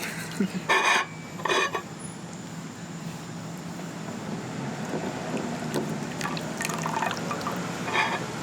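Freshly boiled hot water is poured for tea at a table, a steady liquid pour with splashing and filling tones and a few brief clinks, close and moderately loud with no talk.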